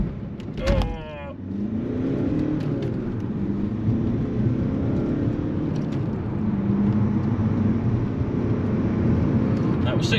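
A 2012 Ford Mondeo Titanium pulls away hard from a standing start with brief wheel spin, then holds a steady, loud engine drone as it accelerates toward 60 mph, with a short burst of activity near the start.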